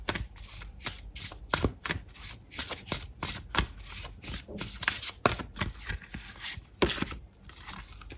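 A deck of tarot cards is shuffled by hand, close and continuous, with a steady run of riffling, flapping and tapping strokes throughout.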